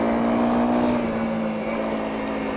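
A Honda CRF250L motorcycle engine holds a steady, crisp drone at roughly 6000 to 7000 rpm during on-road riding, loud and continuous throughout with no pauses.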